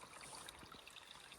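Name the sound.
small stream flowing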